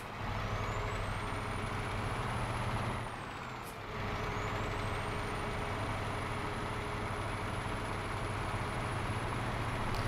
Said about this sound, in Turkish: Arka dingili kaldırabiliyorsunuz arkadaşlar, biliyorsunuz. Yavaş seçmiştim ama ben yükseliyorum